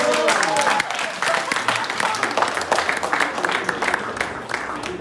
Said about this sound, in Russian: Давайте все вместе одарим их аплодисментами.